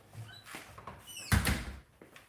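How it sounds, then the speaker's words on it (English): A door being closed in a home workshop, a single loud thud near the middle with a brief rattle after it, close by, with faint squeaky sounds before it. "gonna have to close that door."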